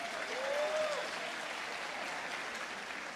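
A conference audience at a productivity talk gives a round of applause, a soft, distant wash of many hands clapping with a faint voice rising briefly at the start.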